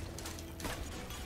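Weapon reload mechanism in the Full Metal Furies co-op video game, a dense burst of clicking, ratcheting mechanical clatter lasting about a second over steady game noise, with a brighter clack near the middle.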